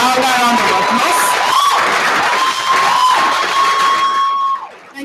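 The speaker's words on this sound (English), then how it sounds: "Now I want to give a louder round of applause." Audience at a university master's mixer event cheering and whooping loudly, with a steady crowd roar and shouts that continue for about five seconds before tapering off at the end.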